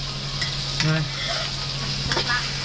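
Beaten egg fries and burns in a hot pan for a Chinese-style tomato and egg stir-fry, a steady close sizzle with brief spatula stirring and scraping sounds.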